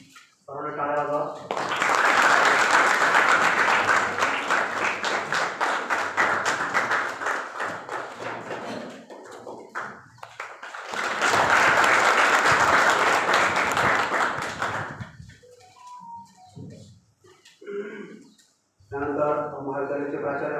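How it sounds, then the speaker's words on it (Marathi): Audience applause at a college anniversary and student award ceremony, two long loud bursts of clapping from a crowd, with brief talk in between and after. "सर्वांना टाळ्या वाजवा."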